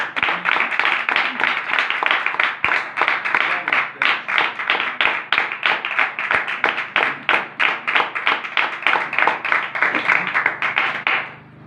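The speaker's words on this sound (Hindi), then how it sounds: "एक बार जोरदार तालियां।" A church congregation claps loudly and rhythmically in unison, a dense run of sharp hand claps in a steady pulse that continues for over ten seconds before stopping.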